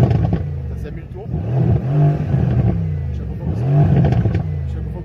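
A Mercedes-AMG C63 S coupe's engine rises in repeated deep revving swells toward 5000 rpm and falls back, loud and close, while someone talks over it.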